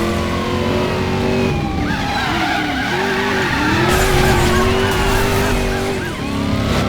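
Tires skid and squeal almost continuously from a car in a driving simulator game, sustained loud screeching with engine revving underneath, no voices.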